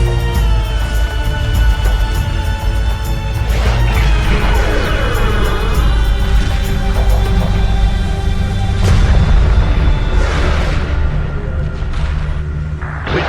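A phased cannon array booms repeatedly in a Homeworld 2 Remastered battle, deep blasts and rumbling over a loud sustained electronic drone with sweeping tones.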